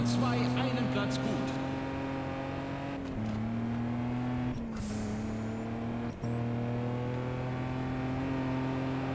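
A race car engine in the video game Juiced 2 holds a steady droning tone and steps up in pitch through gear changes, loud and close, with faint talk beneath.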